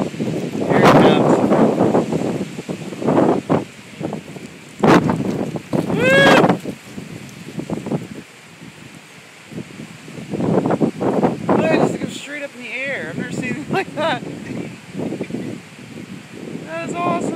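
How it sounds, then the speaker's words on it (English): Strong gusting wind in a severe storm roars through trees near a campus fountain, rising and falling under frequent excited voices talking, with rustling and whooshing throughout. "All that wind's like funneling right through there for some reason."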